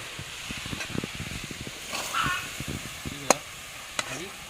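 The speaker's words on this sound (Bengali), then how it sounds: "একটু লবণ দিয়ে ভালো করে ভেজে আবার নাড়িয়ে নেবো" A spoon scrapes and stirs food frying in a pan with salt and turmeric, part of a Bengali home recipe made with panta (soaked rice), giving steady sizzling with irregular clatter and two sharp metallic knocks near the end.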